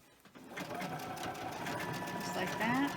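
A sewing machine stitches fabric for handmade Valentine cards, its steady mechanical whirr running unbroken and fairly close for the whole stretch after a brief quiet start.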